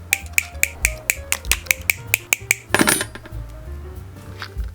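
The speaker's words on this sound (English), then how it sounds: "I'm just going to cut each piece to length" Pieces for leaf spines being cut to length for a model of Grandma's house from The Wind Waker: a quick, even series of about a dozen crisp snipping clicks, close up, then a brief rustle and quieter handling.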